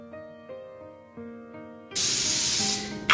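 Cooking oil sprays onto parchment paper in a home kitchen, a sustained loud hiss that bursts in after a couple of seconds of quiet tonal clinks and lasts about a second before fading.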